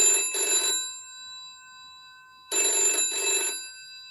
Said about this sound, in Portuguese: Nick, toca um som de telefone quando você recebia uma chamada aí